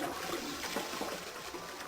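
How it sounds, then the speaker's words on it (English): Rushing, gurgling water from a flushing toilet in the puzzle game Zero Escape: 999, a steady broadband wash with no breaks, close by and moderately loud, heard alone without voices. "I have to flush the toilet?"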